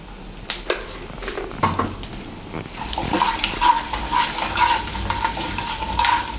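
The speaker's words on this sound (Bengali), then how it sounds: "তিলগুলোকে একটু তেলের সঙ্গে মিশিয়ে নিয়ে হালকা করে একটু ভেজে নেব।" Whole mustard seeds and sesame seeds frying in hot oil for a Bengali radish-greens dish, sizzling and crackling with scattered pops while being stirred, close and moderately loud.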